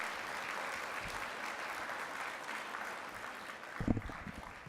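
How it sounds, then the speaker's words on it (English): Applause from an audience at a school writing challenge program event, a steady wash of many hands clapping at moderate loudness, with a brief low thump near the end. "let's give Steve a round of applause"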